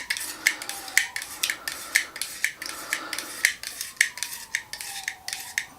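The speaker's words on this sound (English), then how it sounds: "You're just trying to scrape across it like you're shaving." A metal blade scraping silicone caulk off a metal surface in repeated short, rasping strokes, close and fairly quiet, with a steady rhythm of about two strokes per second and no talking.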